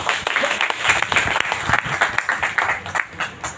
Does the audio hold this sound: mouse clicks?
no